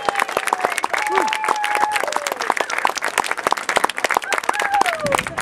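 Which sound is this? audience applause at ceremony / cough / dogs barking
audience applause at ceremony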